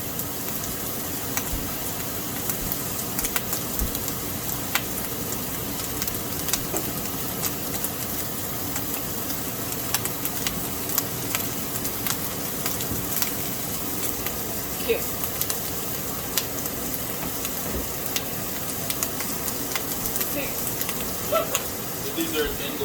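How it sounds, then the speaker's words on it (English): Asparagus sautéing in a hot pan gives a steady, even sizzle with scattered small pops and crackles throughout, close by and moderately loud. "I'm gonna fry that up nicely"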